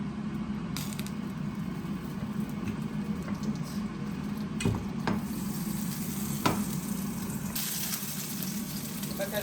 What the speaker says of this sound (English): In the same pan, I will put some butter.